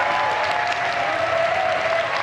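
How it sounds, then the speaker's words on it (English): Audience at a Pokémon event breaks into a brief, steady round of applause, a dense wash of clapping from a crowd with no talk over it. "So please join me in a big round of applause for Kobayashi-san and Saito-san."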